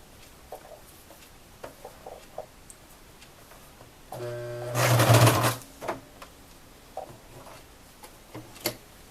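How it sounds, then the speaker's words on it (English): A sewing machine stitches along the edge of thick plastic lining for a wallet, running in one short loud burst midway amid light ticks and handling clicks. "I'm going to sew right along the edge of where the two pieces of plastic come together"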